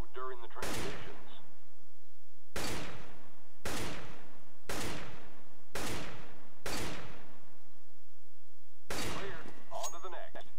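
Weapon training course in the video game Counter-Strike: Global Offensive: seven loud, sharp gunshots or short bursts spaced about a second or two apart, each with a decaying tail, over a steady background hum.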